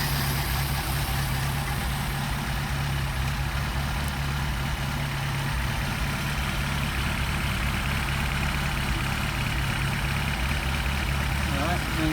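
A Mercedes 190SL engine idles on worn Solex carburetors at roughly 835 to 900 RPM, a steady, even, low rumble held close and constant throughout with no talk over it.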